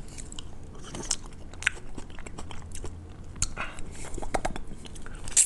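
Someone eats raw marinated crab at close range: wet, crackly bites and chewing in an irregular run of small crunches and slurps, with faint background murmur.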